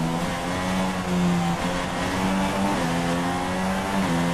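A Red Bull Formula 1 car in the F1 2016 video game screams at high revs with a steady, loud, buzzing engine tone that shifts pitch slightly through gear changes, with no voices.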